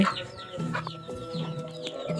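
Several free-range country chickens cluck close by in short, overlapping calls from a rabbit hutch, with faint higher chirps in the background.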